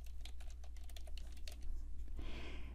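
Keys clack on a computer keyboard as a title is typed into a WordPress dashboard, a quick close run of taps followed by a softer hiss after a final keystroke.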